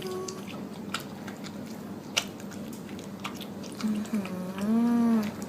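A child eats a meal, soft wet chewing and squishing sounds repeating close by, before a brief sung or hummed child's vocal sound rises near the end.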